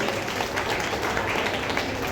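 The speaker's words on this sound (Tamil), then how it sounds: "நீங்கள் வந்து பலத்த கைத்தட்டல்கள் கொடுத்து உற்சாகப்படுத்தணும்" An audience applauds the dance master at a Tamil classical dance school's anklet-worship ceremony, a steady, moderately distant wash of clapping that holds evenly throughout.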